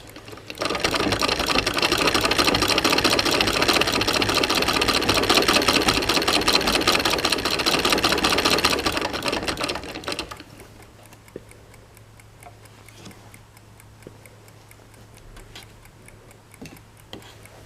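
A treadle sewing machine runs steadily through pinned cotton quilt fabric at a kitchen sewing table, a loud continuous mechanical whir with a fast ticking rhythm for about nine seconds before it stops, leaving faint ticks and low hum.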